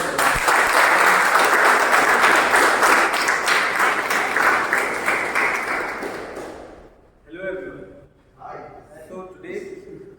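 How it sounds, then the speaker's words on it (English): A large audience at a Toastmasters speech marathon meeting claps loudly and steadily, the applause fading out after about seven seconds, followed by brief talk. "Let's give them a huge round of applause"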